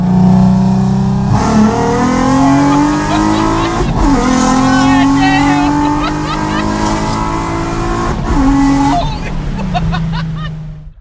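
A car engine fitted with a crank pulley kit revs and accelerates hard through several gear shifts, a loud close rising whine dropping at each shift, with a voice talking faintly underneath.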